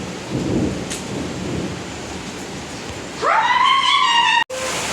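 Heavy rain hisses steadily during a thunderstorm with lightning, and a faint thunder rumble sounds early on. Near the end a dog's rising yelp cuts in and stops abruptly.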